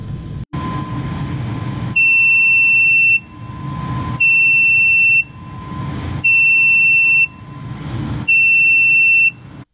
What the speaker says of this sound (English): if it is working correctly, you should hear the buzzer making sound